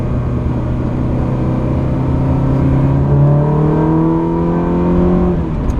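A 2004 Ferrari 360 Modena with a six-speed gearbox pulls hard from inside the car. The engine note climbs steadily and loudly in a smooth rising whine, then eases off near the end.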